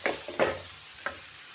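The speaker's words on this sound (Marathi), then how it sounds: "एक 2 मिनिटं मी हे परतून घेते।" Tawa pulao ingredients stirred in a pan, with a steady background sizzle and three distinct scraping strokes of the spatula spaced across the moment.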